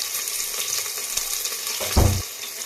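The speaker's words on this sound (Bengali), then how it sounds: "তো আমি এবার কাঁচা লঙ্কা পেঁয়াজ দিয়ে দিলাম" Green chili and onion fry in hot oil in a wok, a continuous bright sizzle that swells into a louder burst of spattering near the end.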